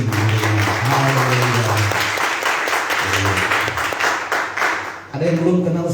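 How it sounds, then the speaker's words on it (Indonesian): A church congregation in Manokwari breaks into applause during a service, with steady dense clapping and voices calling out over it, mixed with speech throughout. "Ya, tepuk tangan dulu untuk masing-masing."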